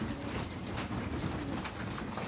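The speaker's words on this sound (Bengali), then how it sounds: "প্রচুর কবুতর তো দেখতেছি" Many pigeons of assorted breeds, among them Pakistani Teddy, Giribaz and Golai Lal, keep up a dense, low cooing murmur inside a loft, all blended into a steady hiss of background noise with no voices.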